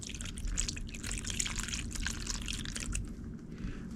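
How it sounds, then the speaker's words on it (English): Hot liquid pours from a can onto sawdust for homemade firestarters, a continuous splashing, trickling sound with small dribbles, close and fairly quiet, tapering off near the end. "But we'll just pour it in like that. So you make sure you get all the sawdust wet."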